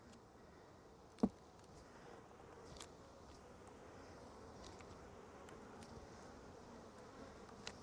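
Honey bees buzz in a hive opened for a midwinter inspection: a faint, continuous low hum with a single sharp knock early on.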